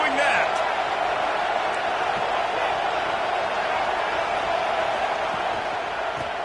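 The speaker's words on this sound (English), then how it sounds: "They challenge this crowd to bring the energy," A Florida State Seminoles football stadium crowd roars in a steady, loud wash of cheering that holds without a break, with distant whoops rising above the din.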